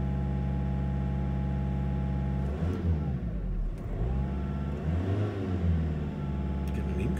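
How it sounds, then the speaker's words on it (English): A Volkswagen Caddy with a P1592 boost pressure fault idles with a steady low hum, then its engine is revved up to about 2000 RPM twice, pitch rising and falling smoothly in close, clear recording. "I'm going to bring it up to 2000 RPM again."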